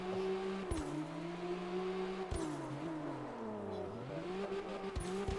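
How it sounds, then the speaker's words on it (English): Toyota Supra with a turbocharged 2JZ engine in a drift racing game, revving steadily with pitch rising and falling through gear shifts, dropping sharply at each change, loud and close throughout. "It sounds like a 2JZ"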